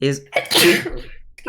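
A sneeze bursts out mid-conversation among players at a tabletop role-playing game session, one short sharp burst close to the microphone, with voices talking around it.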